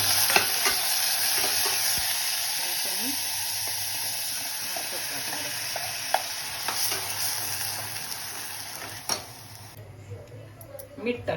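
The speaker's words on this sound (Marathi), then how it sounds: "आता मी फोडणीला टाकणार आहे कोळंबी" Prawns frying in a hot chilli tempering crackle and sizzle continuously at close range, joined by stirring and a few sharp utensil taps, before the sizzle thins out toward the end.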